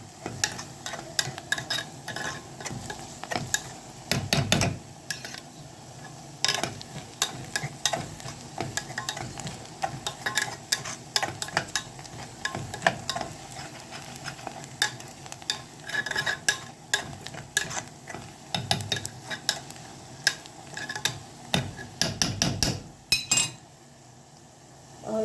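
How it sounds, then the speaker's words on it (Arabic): Onions frying in a pan for shakshuka, a soft continuous sizzle with a utensil repeatedly stirring and clinking against the pan in irregular scrapes, fairly quiet and close. "بنقلب كده لحد ما البصله ما تدبل شويه. لازم البصله تدبل."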